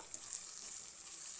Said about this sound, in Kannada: ಇವಾಗ ಇದು ಎಣ್ಣೆಯಲ್ಲೇ ಚೆನ್ನಾಗಿ ಫ್ರೈ ಆಗಬೇಕು.